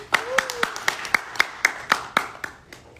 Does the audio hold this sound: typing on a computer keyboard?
no